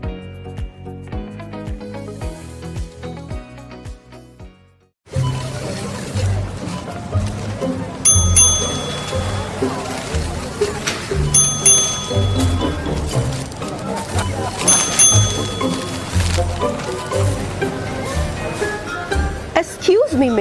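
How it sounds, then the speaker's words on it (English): Electronic ding-ding chimes sound as shoppers collect frequent-shopper points, ringing out about three times at regular intervals over voices and busy background sound, after a short stretch of music at the start. "What's that ding-ding noise? Oh, that's customers collecting points from a frequent shopper program."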